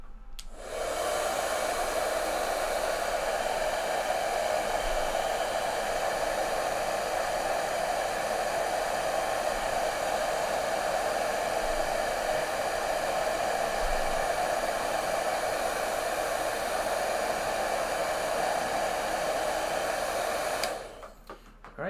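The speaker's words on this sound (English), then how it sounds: "I am about to use the heat gun, so it's going to be loud for just a second" A heat gun blows on heat shrink during electronics assembly, a loud, steady whooshing blast with a constant whine that runs about twenty seconds before cutting off, close by and with no talk.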